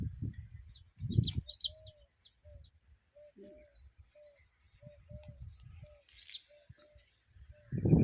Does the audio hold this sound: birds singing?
yes